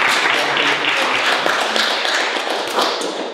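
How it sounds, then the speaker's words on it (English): An audience at a Startup Grind event in Cluj-Napoca breaks into a loud, sustained round of applause to welcome a speaker on stage, with dense, even clapping throughout. "Please welcome with a round of applause Bogdan Herea"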